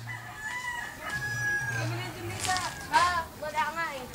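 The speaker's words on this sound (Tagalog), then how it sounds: "Manok!" A rooster crows several times nearby in drawn-out, wavering calls with some clucking, while people talk over and between the crows.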